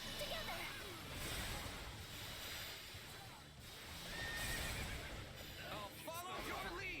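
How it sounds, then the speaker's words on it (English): A horse in the video game Fire Emblem Warriors: Three Hopes neighs and whinnies with shrill, wavering calls over galloping and clattering battle noise, with a person talking over it. "Was that her conjuring the horse, or is that just me riding the horse?"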